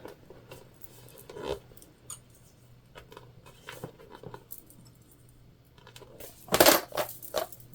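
Clips snap onto a jelly vinyl pencil box in a few faint, scattered plastic clicks and rustles, with one sharper, louder click near the end.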